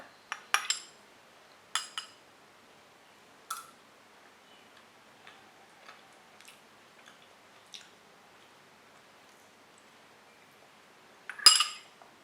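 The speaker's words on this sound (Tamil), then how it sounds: "கொஞ்சம் ரைஸ் எடுத்துக்கிறேன்" Cutlery clinks against a dish while ready-to-eat vegetable biryani rice is served, a handful of sharp metallic taps spread unevenly with long quiet gaps, close and fairly clear with no talking.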